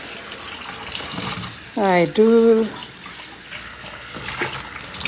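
A kitchen tap runs into a sink while dishes are rinsed, a steady hiss of water beneath a woman's brief speech, loud and close.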